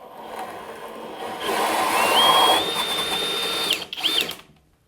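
Power drill with a tenon cutter shaving a log tenon, a rising motor whine under grinding wood-cutting noise lasting a few seconds, then slowing and stopping.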